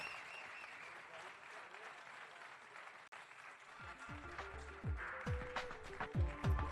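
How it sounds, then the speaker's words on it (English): Sustained crowd applause at a gala dinner, steady for several seconds before speech and other voices begin to break through toward the end. "one more round of applause for them"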